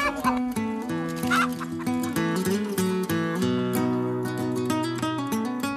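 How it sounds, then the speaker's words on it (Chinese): Free-range native chickens forage on a farm in Dongshan, Yilan, Taiwan, clucking and murmuring steadily throughout over a tonal musical background. "以有机放养的方式，让跑山土鸡自然觅食。"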